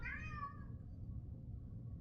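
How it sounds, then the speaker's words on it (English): A house cat meows insistently outside a closed door, one drawn-out, rising-and-falling cry near the start that fades into quiet room noise, heard alone without talk. "That was my cat trying to get in here."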